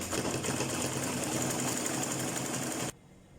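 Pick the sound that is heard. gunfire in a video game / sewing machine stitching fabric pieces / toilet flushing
sewing machine stitching fabric pieces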